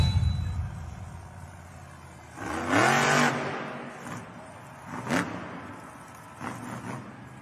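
Tom Meents' monster truck engine revs hard at a spooky-themed Monster Jam event, a loud rising roar followed by fading surges and short bursts of throttle, with an arena crowd faintly behind.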